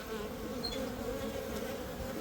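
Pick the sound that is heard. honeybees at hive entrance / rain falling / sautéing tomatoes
honeybees at hive entrance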